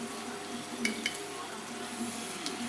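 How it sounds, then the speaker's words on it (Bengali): Spice paste mixed with water sizzles faintly and steadily in hot oil while prawn and green-banana kofta curry is being cooked. A few soft clinks and stirring sounds rise above the quiet crackle. "শুকনো মশলাটা এবারে জলে গুলিয়ে তেলে দেবেন।"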